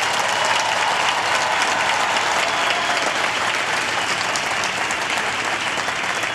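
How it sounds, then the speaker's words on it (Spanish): A huge outdoor crowd at the World Youth Day welcoming ceremony in Lisbon claps loudly and continuously, a dense even wash of applause with no talk over it. "Y lo hacemos con un fuerte aplauso."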